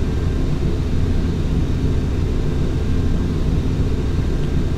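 Boeing 737-800 jet engines held at full throttle during a climb in the FSX flight simulator: a steady, loud, unbroken roar with deep rumble, no talk.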